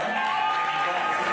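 An audience applauds at a business presentation in Freeport, Bahamas, with dense, steady clapping that holds at an even, fairly loud level through the whole short stretch.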